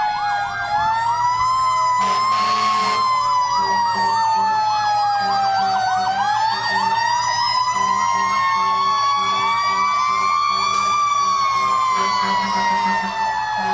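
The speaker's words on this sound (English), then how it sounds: "as you see, they got the spinning siren too" A fire engine from the Economy Fire Department, Rescue 69, sounds a loud rising and falling mechanical spinning siren at close range during a Christmas parade in Ambridge, with brief horn blasts over the steady wail.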